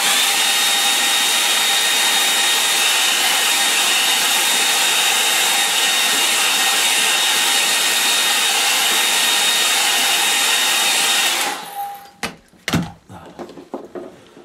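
A hair dryer blows a steady, loud, close whir while drying a watercolour painting, then switches off near the end, leaving a few small knocks and handling clatter.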